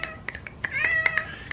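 A cat meows repeatedly at close range, several short cries and one longer drawn-out yowl in quick succession, clear and fairly loud.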